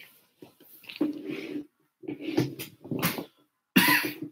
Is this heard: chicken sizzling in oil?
no